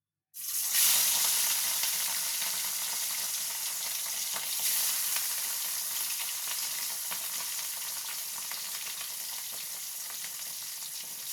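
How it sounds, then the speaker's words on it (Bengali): Rui fish slices going into a hot wok of oil, a loud burst of sizzling that starts abruptly, then settles into a dense, even hiss and crackle throughout. "এবার আমি মাছটা ভেজে নেব।"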